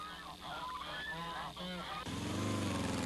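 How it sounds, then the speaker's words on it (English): Ducks in Balinese rice fields, loud nasal honking calls in short bursts, then a denser chorus of many birds in the second half. "Ducks are released into the fields to eat whatever pests remain."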